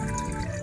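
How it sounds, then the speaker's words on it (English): Cold water runs steadily into a Crown MS40 water heater during a flush, a close, continuous splashing trickle that holds an even level for the whole moment. "Ran some more cold water back into it"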